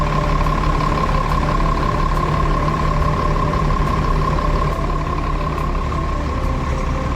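A full-sleeper NPM bus at a departure terminal idles with a loud, steady engine rumble and drone as it is reversed, the sound continuous and close throughout.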